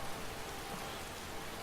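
Heavy rain in a modded Skyvival video game, a dense and steady hiss of downpour with no breaks and no voices.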